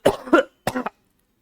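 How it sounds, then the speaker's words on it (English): A few sharp coughs close by, two quick ones followed by a short pause and another, then silence. "Sorry for the cough."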